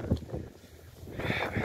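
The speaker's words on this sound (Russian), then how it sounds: "Ветер сильный." Strong, cold wind blows outdoors at a village home, giving a brief, rough rush of gusty noise with low rumbling buffets against the microphone.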